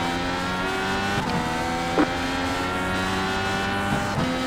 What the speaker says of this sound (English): Car behind seems to have a marginally better restart.